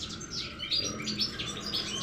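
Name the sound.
goldfinch chirping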